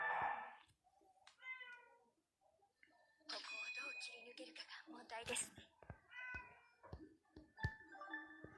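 A pet cat meows near a room, with several short meows scattered among household sounds and thin tonal chirps; the calls come at moderate volume with pauses in between.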